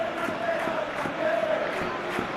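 A stadium crowd in a PES football video game roars in a steady, rolling wash of cheering, with faint rhythmic chanting pulses over a low background rumble.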